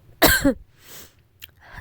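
A person with a cold gives a loud, close double cough, followed by a softer breathy rasp and a faint throat sound.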